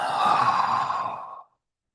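One long, deep exhale from a person, a soft breathy whoosh lasting over a second that fades smoothly into silence.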